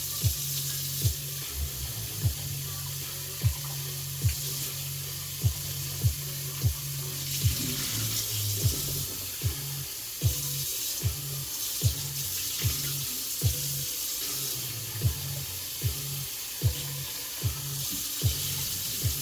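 Instant broad potato noodles are rinsed under a running kitchen tap, a steady close rush of water with regular light knocks and clatters from handling, no talking.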